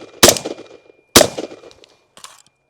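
Three rifle shots ring out one after another at roughly one-second intervals, each a sharp, loud crack with a short metallic ring, the last one quieter and more distant-sounding.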